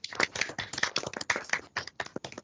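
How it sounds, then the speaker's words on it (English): Workshop audience clapping for facilitators, a sparse patter of individual claps from a small group, uneven and fairly close, fading toward the end. "please join me in a bit of a clap for all of our lovely facilitators and coordinators"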